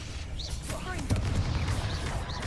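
A Confringo fire-blast spell goes off in the Hogwarts Legacy video game, a booming burst amid a dense wash of combat effects and low rumble, with a voice speaking over the clash.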